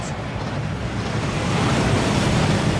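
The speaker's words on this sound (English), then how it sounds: "That waterfall washes away all enchantments." A rushing waterfall in Hogwarts Legacy that washes away enchantments, a loud, dense, steady roar of water filling the whole clip, with no talk.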